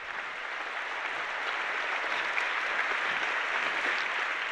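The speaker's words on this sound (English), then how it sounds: "Let's another round of applause for the engineers and the creative artists at NVIDIA." Steady, dense audience applause for engineers and creative artists at an NVIDIA GTC 2019 conference, a broad wash of clapping holding at an even level for the whole stretch with no voices over it.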